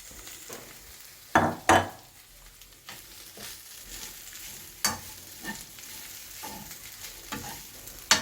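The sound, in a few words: shrimp frying with coconut in a pan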